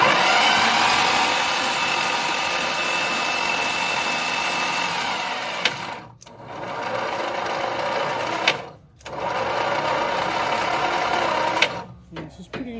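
A 1962 Plymouth Valiant engine, plugs removed, cranks over on a booster pack in steady long whirring bursts, with two short pauses between cranking runs.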